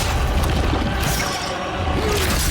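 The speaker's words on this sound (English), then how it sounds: "Spear strike." A spear strike lands in the boss fight against Ozma in The First Berserker: Khazan as a loud, dense impact burst, heavy low rumble and crunching debris under continuous game noise and music, with no talking.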